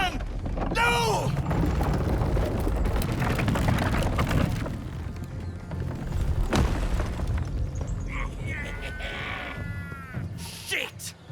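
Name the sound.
cannon fire explosion in video game Baldur's Gate 3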